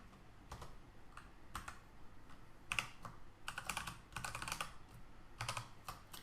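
Typing on a computer keyboard while writing a JavaScript function: irregular bursts of close, crisp key clicks with short pauses, alone with no voice.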